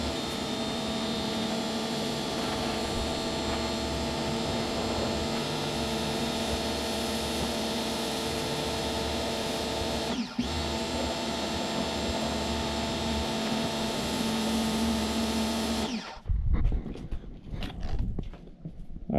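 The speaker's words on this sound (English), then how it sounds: "then I'll be able to use my shop vac to suck the moisture out" A shop vac runs with a loud, steady drone while it pulls moisture out of the carpet of a Chevrolet during a seat installation, continuous for about sixteen seconds before cutting off into quieter handling noises.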